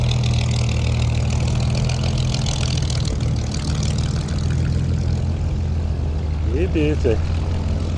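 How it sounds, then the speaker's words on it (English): A Spitfire's piston engine drones loud and steady as the plane flies over Blackpool, a continuous heavy roar filling the whole stretch, with a man briefly exclaiming near the end. "a Spitfire here in Blackpool. Look at that. Well, you can hear it now."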